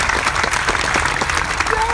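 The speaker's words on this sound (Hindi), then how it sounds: "जोरदार तालियों से इस्तकबाल करें।" Rally crowd clapping loudly and continuously, a dense close wash of many hands with some cheering mixed in.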